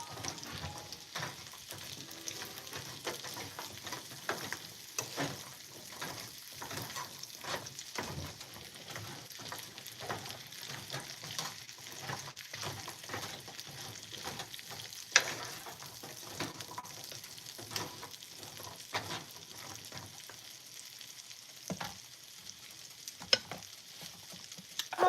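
Chicken fries in a pan for a fried chicken dinner, a continuous moderate sizzle broken by repeated scraping stirs throughout, with no talking.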